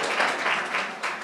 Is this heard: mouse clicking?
no